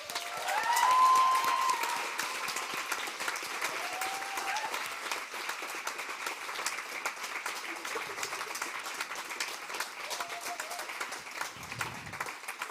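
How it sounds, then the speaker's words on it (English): An audience at a socialist feminist conference applauds its organisers with sustained, even clapping that swells early and carries on steadily throughout, with faint murmurs underneath. "I want us to take a moment to applaud those in the room who have made Rosa happen"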